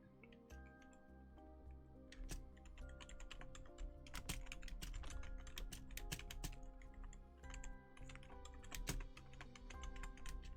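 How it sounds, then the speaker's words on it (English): Someone types steadily on a computer keyboard during a tabletop role-playing podcast, giving close, rapid clicks and clacks with scattered louder key strikes, sounding alone at a moderate level over a low room hum. "Jared's typing."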